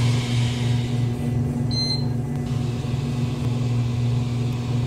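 An Otis elevator car travels upward with a steady low mechanical hum and motor drone, plus a faint high whine midway, continuous and close throughout.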